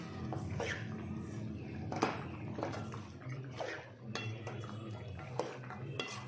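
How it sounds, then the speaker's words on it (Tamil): A spoon stirs mutton fry with ghee in a pan: close, continuous scraping and clinking of metal against the pan, with soft sizzling underneath. "கடைசியாக ஒரு 1/2 டேபிள்ஸ்பூன் நெய் உள்ள மிக்ஸ் பண்ணிக்கலாங்க."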